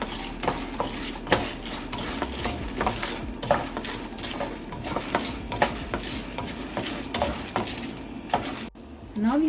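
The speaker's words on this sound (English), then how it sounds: "Keep stirring until it turns into a slight golden brown." Toor dal being dry-roasted and stirred in a pan over a medium flame, a spoon repeatedly scraping and clinking against the metal with a rattling patter of lentils, close and uneven in rhythm.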